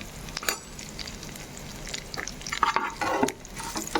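Asafoetida and curry leaves go into hot oil for a tempering, giving uneven bursts of crackling sizzle, with a louder spitting flare midway and light stirring scrapes.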